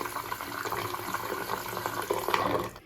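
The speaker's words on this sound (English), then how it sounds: "And we got water." Water runs from a newly installed Moen bathroom faucet into a sink, a steady close splashing hiss that continues through the short stretch.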